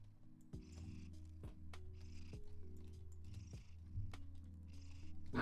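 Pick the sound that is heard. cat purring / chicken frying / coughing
cat purring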